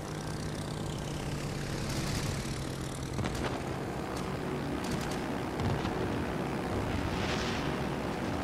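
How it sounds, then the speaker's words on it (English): Propeller fighter planes in a video game drone and sweep past, with steady engine roar and passing whooshes rising and fading over several seconds, no talk. "Oh, fighter planes."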